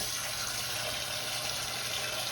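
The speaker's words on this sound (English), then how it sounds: "Now we're going to put just enough water in here" Water pours steadily into an Instant Pot over kidney beans and smoked pork, a close, continuous rushing splash with no talking.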